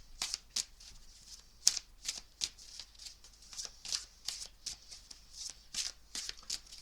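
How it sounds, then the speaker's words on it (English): A deck of tarot cards being shuffled by hand, quick crisp riffling bursts repeating in an irregular rhythm, close and fairly quiet, with no talking. "I'm going to give them another shuffle because all those are coming out of the deck"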